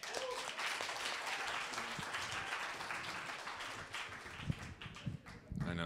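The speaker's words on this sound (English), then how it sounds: "please give Erik a big round of applause" Audience applause for a performer named Erik, a dense, steady wash of clapping sustained at moderate loudness from start to finish, with a few sharper isolated claps and some faint voices near the end.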